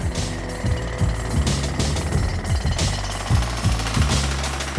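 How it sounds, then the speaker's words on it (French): Heavy jackhammers pound concrete in a collapsed building during a rescue, hammering in rapid, continuous bursts at close range, loud and dense with rubble noise. "On a pris de gros marteaux-piqueurs."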